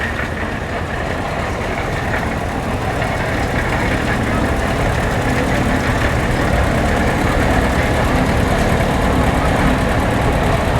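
A Ford Model T turned into a tractor with a Montgomery Ward conversion kit runs at a parade, its engine giving a steady, loud, low rumble throughout with a busy background.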